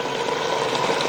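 Mutton frying in a clay pot (matka) for kunna gosht gives off a steady, dense sizzle that holds at an even level throughout, with no voices.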